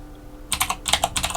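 Quick bursts of typing on a Spanish computer keyboard, close and crisp, with a short pause between clusters of clicks.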